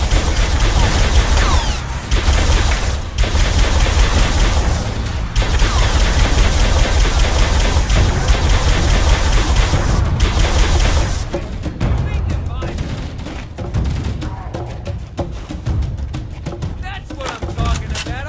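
Gunfire in Halo: Combat Evolved: loud, dense bursts of weapon fire and explosions keep up for the first half, then thin into sparser shots, with voices talking over the action.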